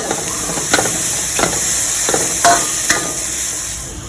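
Vegetarian basil stir-fry with textured soy protein tossed in a hot pan: a continuous steamy hiss punctuated by a handful of sharp spatula scrapes and clacks, close and moderately loud, with no talking.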